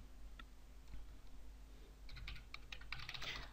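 Typing on a computer keyboard, a few sparse keystrokes at first and then a quick burst of clicky taps in the second half, close and clear over a low steady hum.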